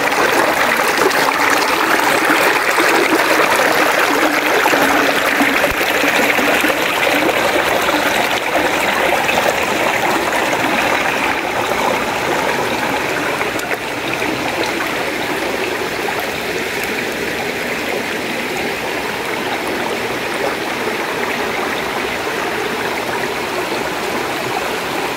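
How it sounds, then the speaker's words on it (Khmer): A mountain waterfall feeding a forest stream, an unbroken rushing and trickling roar heard up close and loud with no talk over it. "ទឹកនោះទឹកធ្លាក់មកពីលើភ្នំ"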